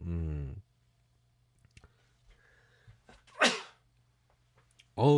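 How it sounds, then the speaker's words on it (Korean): A single sharp, explosive cough bursts out after a harmonic vocal sound, standing alone against a quiet background with a few faint clicks. "왜 기침이 나오냐"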